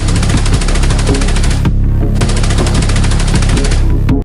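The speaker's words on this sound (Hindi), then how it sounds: "उन्होंने गोलियां चलाई है भीड़ को तितर बितर करने के लिए" Loud, rapid automatic gunfire from Pakistani army FC troops firing to disperse a crowd in Balochistan, crackling in dense bursts with one short pause partway through.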